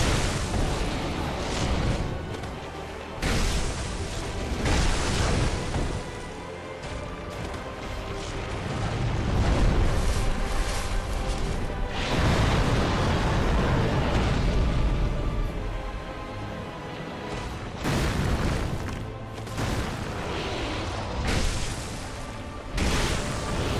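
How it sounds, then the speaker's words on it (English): A dragon's fire breath attack in Dark Souls 2 Scholar of the First Sin: a long, loud, roaring blast that swells and fades in repeated waves over dense rumbling game noise. "Give me some fire breath, Chief."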